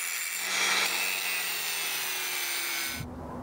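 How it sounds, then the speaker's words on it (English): Grinding welds smooth on a custom steel LED light bar: a steady, loud abrasive whine of a power grinder runs continuously, then cuts off near the end. "Now I'll grind everything smooth so it looks good and we can move to the left side."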